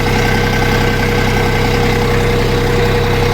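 A Sintai TRK 240 tractor engine runs steadily at close range as a gear is engaged, giving a constant low, rumbling idle with a faint vibrating drone that stays even throughout.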